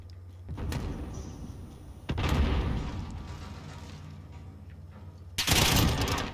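Gunfire in the Call of Duty Modern Warfare video game, a few heavy bursts and booming shots at close range separated by quieter stretches, with a loud final burst.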